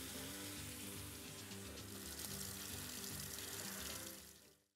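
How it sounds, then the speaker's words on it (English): Hands are rinsed under a running kitchen tap after handling raw meat, a steady, faint rush of water that fades out at the end, with no voices. "let me just rinse off real quick"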